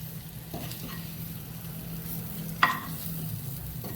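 Mangalorean-style egg fry crackles steadily in a hot pan, a close continuous sizzle broken by a single sharp clack of a spatula midway, with no talk.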